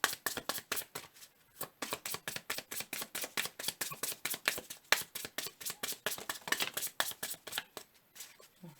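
Tarot cards being shuffled close up, a steady run of quick riffling bursts repeating in even rhythm, soft and crisp with no talking.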